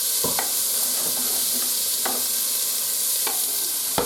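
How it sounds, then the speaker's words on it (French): Onions and garlic sizzle in hot olive oil in a saucepan, a steady bright frying hiss broken by a few sharp stirring scrapes, close and without talk. "Quand ta casserole sera bien chaude avec ton huile, tu vas y rajouter tes oignons et ton ail."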